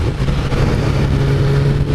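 A 1999 Suzuki Bandit 600 motorcycle engine runs at a steady, loud idle, a continuous low rumble with even pulsing and no talk over it.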